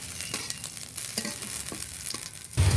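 Panch phoron, cumin seeds and ginger fry in hot oil in a pan, a continuous close sizzle with scattered stirring scrapes, growing louder and hissier at the end.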